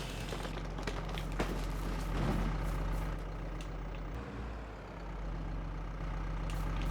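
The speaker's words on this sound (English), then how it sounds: "this should be a good test of the MF5S because it's a small tractor" A small 115-horsepower MF5S tractor in Farming Simulator 22 drones with a steady low engine hum while dragging a heavy tree trunk, holding an even, continuous rumble with a brief dip midway.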